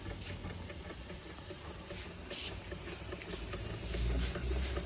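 Doll 387/3 model steam engine steaming up on a low gas burner, a continuous loud hiss with a faint rapid chuffing rhythm underneath, swelling slightly toward the end.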